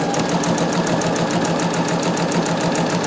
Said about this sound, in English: what I'm going to do is simply sew along here